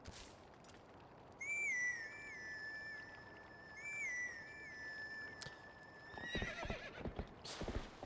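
A horse in the video game Zelda: Twilight Princess whinnies in a long, wavering call, and later the clip-clop of its hooves comes through clearly, with quiet ambience behind.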